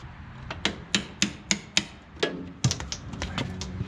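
Prying the chain box cover with its cork gasket off a 1986 Scat Trak 1300HD skid steer: a close run of sharp metallic clicks and scraping snaps, about a dozen irregular hits with no talk.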